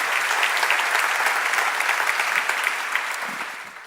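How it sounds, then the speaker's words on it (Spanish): A church congregation breaks into steady, fairly close applause, a dense patter of many hands that gradually fades over four seconds. "déle un fuerte aplauso al Señor"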